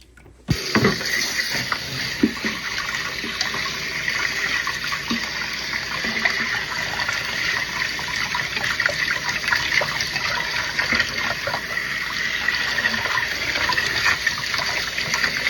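Running tap water gushing steadily to rinse chick incubator parts, a loud close splashing stream that starts abruptly and keeps pouring with small sloshes and shifts.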